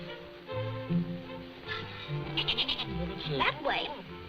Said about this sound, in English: Burley's a very warm goat, isn't she?